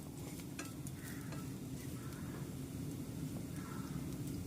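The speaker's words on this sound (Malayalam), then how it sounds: "ബ്രൗൺ കളർ ആവണ വരെയും നമ്മൾ ഇനി വറുത്തെടുക്കണം." Curry leaves and masala fry in oil for an egg curry, sizzling steadily while a spoon stirs and scrapes the pan, close but faint.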